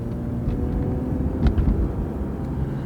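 Car with worn struts and an automatic transmission on the move, heard from inside as a steady low engine and road rumble, fairly loud, with a brief swell midway and no voices.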